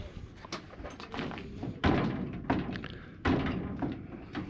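Doors in an old boarding house bang and thud several times, close and fairly loud, with a few sharp slams standing out from a rumbling, clattery background.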